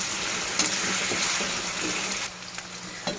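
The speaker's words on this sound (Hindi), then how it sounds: "अब ये सब्ज़ी स्लोली फ्राई हो रही है।" Mixed vegetables fry slowly in oil over a medium flame, giving a steady soft sizzle and hiss throughout with a few faint clinks, heard close and unbroken.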